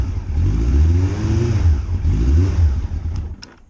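A cold first-generation Yamaha Fazer 1000 motorcycle engine with high mileage, held on a little throttle, gives a deep rising and falling rev close to the microphone, with a slight clatter near the end.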